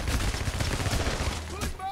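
Rapid automatic gunfire in the PC shooter Payday: The Heist, a dense, loud, continuous burst of shots over about two seconds, with talk underneath.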